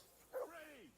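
A single short dog bark that trails into a falling whine, faint and close, with a low murmur underneath, in the video game Kingdom Come: Deliverance II.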